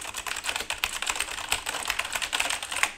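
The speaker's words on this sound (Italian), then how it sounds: "è molto molto simpatico il tipo di rumore di questi switch" Fast typing on a mechanical gaming keyboard, a Logitech G910 or Razer BlackWidow Elite, produces a dense run of crisp, clacky keystrokes, close and fairly quiet, with no voices.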